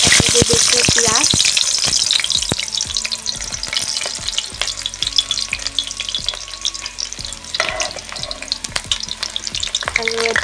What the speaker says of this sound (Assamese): মই তেল গৰম হৈ গ'ল, কেৰাহী পাতি থৈছিলোঁ। তাতে দি দিছোঁ পিঁয়াজ।